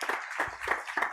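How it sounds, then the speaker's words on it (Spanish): A church congregation claps during a worship service in a short burst of rhythmic group applause at moderate distance. "Denle un aplauso al Dios bendito de la gloria,"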